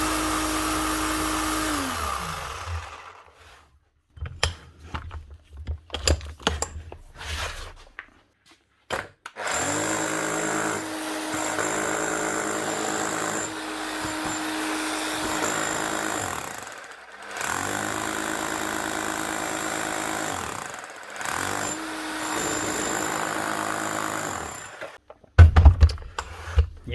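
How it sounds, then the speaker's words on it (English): An old Bosch 1130 EVS rotary hammer with a faulty hammer action runs in bursts, a whining motor with a rattling buzz that starts and stops repeatedly, loud and close in a workshop. "she's hammering or trying to hammer"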